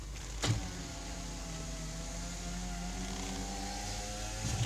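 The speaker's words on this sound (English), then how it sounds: "Power windows." A 2007 Toyota Sienna CE power window motor whirs steadily inside the van, a smooth even hum lasting several seconds with a soft thump as it starts and another as it stops.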